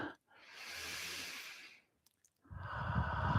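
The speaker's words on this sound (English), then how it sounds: "take a deep and clearing breath" A slow, deep breath: a long soft airy inhale rising and fading, a brief pause with small clicks, then a fuller, louder exhale, close and alone.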